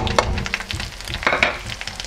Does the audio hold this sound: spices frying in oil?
yes